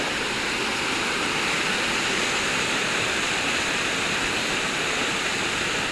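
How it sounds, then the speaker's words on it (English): A waterfall at Mirabeau Point Park roars loudly and continuously, a dense, steady rush of falling water with no pauses or voices over it. "There's the waterfall."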